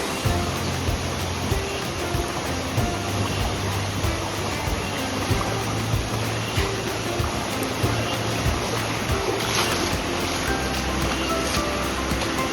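A small jungle river in Kali Tiger Reserve being crossed on foot, a steady broadband rush of flowing water with splashy texture, continuous and fairly close throughout.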